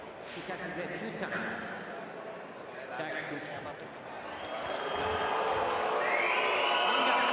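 An Italian crowd at a women's individual fencing world championship podium bout in Milan roars, swelling from scattered murmurs into loud sustained shouting and jeering, with an announcer talking over it.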